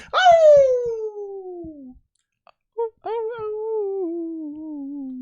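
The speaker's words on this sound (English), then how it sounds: "an eerie howling distracts the group" An eerie wolf howl rises and slides slowly downward, then a second long wavering howl follows after a short gap, loud and close with no talk.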